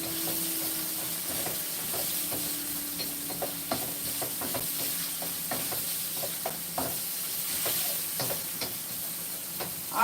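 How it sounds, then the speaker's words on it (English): Fresh vegetables with seasoning sautéing in a pan, a continuous soft sizzle and hiss broken by scattered scraping and stirring knocks, close and moderately quiet. "so I'm sauteing this for a minute"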